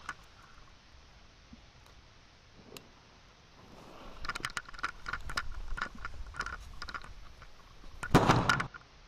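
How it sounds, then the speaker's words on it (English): Fireworks exploding outdoors, with rapid crackling pops building in the middle and a final loud, dense burst near the end. "More fireworks. Let's go."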